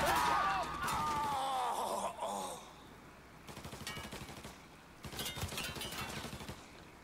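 Gunfire in Mafia III rings out in rapid bursts. Shots crackle over a groaning voice early on, then come as repeated fusillades of sharp reports in clusters, moderately loud against a lower background.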